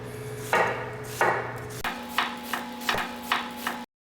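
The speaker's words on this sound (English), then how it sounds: "I'm going to use half an onion here and just thinly julienne it." A knife slicing half an onion into thin julienne strips on a cutting board: a few slower cuts, then a quicker run of crisp, evenly spaced chops, close and clear with no talking.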